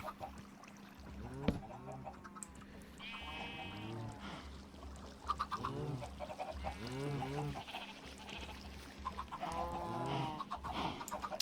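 Minecraft chickens on a farm cluck in short bursts, several overlapping calls repeating over a low steady background, fairly close and at moderate volume.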